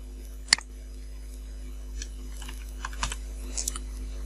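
Keys of a computer keyboard tapped while typing into a spreadsheet cell, one sharp click followed by a scattering of softer, irregular keystrokes over a steady low hum.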